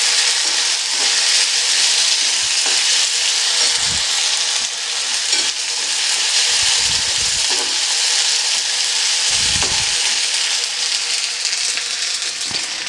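Ginger-garlic paste hits hot oil and spices for a Bengali egg curry, a loud, steady sizzle close up with occasional soft stirring knocks and scrapes of a spoon in the pan.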